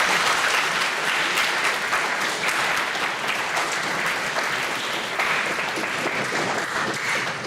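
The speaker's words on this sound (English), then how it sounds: "Mackenzie Jones and Logan Richardson, so we give them a round of applause." Sustained applause fills an eighth-grade award ceremony, many hands clapping loudly and steadily from start to finish with no voices rising above it.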